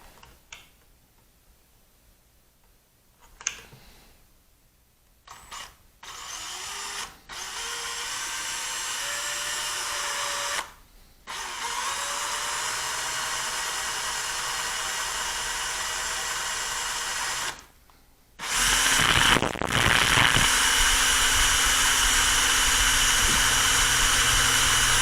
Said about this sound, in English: we're going to go ahead and drill a hole